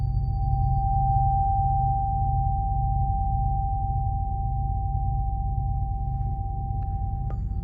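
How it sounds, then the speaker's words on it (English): A single steady pure tone from a Rife Remedy tuning fork rings close and clear, holding unchanged for several seconds above a low constant hum, with a faint tap near the end. "I sometimes like to hold a tuning fork by an ear to someone, just to kind of lets the body know this is a frequency"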